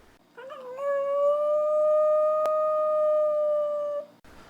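A human voice imitates a dachshund's ear-piercing howl: one long, loud, sustained tonal wail that rises briefly at the start, holds steady for about three seconds, then cuts off abruptly.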